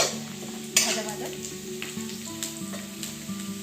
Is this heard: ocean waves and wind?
no